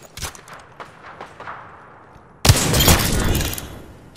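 Video game gunfire: scattered single shots at first, then a sudden loud, sustained barrage of rapid fire that fades toward the end, with no talking over it.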